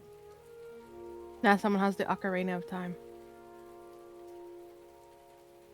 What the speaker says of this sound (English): you can hear that it has started raining outside.